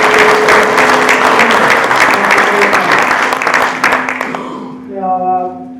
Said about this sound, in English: can we have a round of applause for Shana